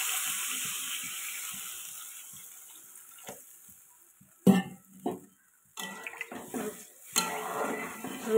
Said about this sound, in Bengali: এই যে জলটা এবার দিয়ে দিচ্ছি।